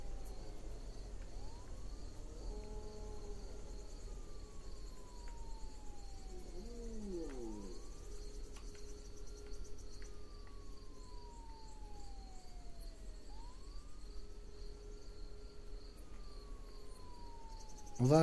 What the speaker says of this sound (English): I can hear siren.